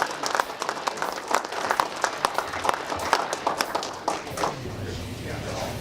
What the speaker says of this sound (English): Let's give Troy Morris and Ranger Boats a round of applause for providing the entertainment for them.